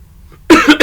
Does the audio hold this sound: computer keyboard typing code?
no